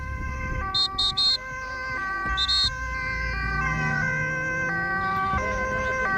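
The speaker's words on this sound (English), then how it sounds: "they keep traffic flowing for the approaching ambulance." An ambulance siren blares with shifting tones over traffic rumble in Zoetermeer, joined early on by several short high whistle blasts.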